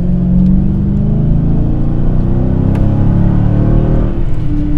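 A Dodge Challenger SRT8 with a 477-horsepower engine revving steadily toward 4500 rpm, a loud, continuous, deep rumbling drone that rises slowly in pitch from inside the car.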